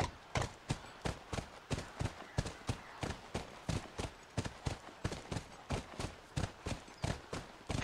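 Horse hooves clip-clop steadily in The Last of Us, a brisk and even run of sharp, close knocks that carries on for several seconds with no talk.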